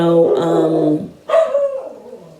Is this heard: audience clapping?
no